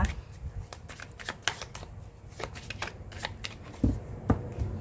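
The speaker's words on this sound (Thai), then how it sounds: "มาเราจะขอเป็นตัวแทนในการจับไพ่นะคะ" Tarot cards being shuffled by hand during a reading, a close, busy run of quick papery riffles and soft slaps lasting throughout, with speech faintly present.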